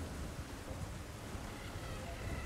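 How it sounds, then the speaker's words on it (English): Steady rain hisses over a low rumble of thunder in a stormy outdoor area of the video game Elden Ring, a continuous, even wash with no break and no talk over it. "It's all rainy still."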